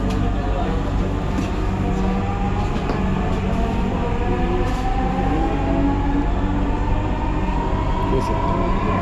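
A Dhaka metro rail train rolls along at speed, giving a loud, steady rumble and rail roar for the whole stretch with no break.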